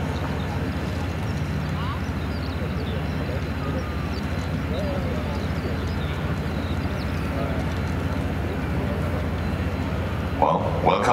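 A Sikorsky CH-53 King Stallion heavy helicopter at its international debut at the ILA air show in Berlin gives a steady, rhythmic low rotor drone throughout, with an announcer talking over it the whole time.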